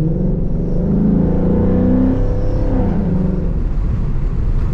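A 2011 Ford Mustang GT with a Roush axle-back exhaust rumbles loud and close, its engine revving and rising during rev-matched downshifts, a continuous deep exhaust drone.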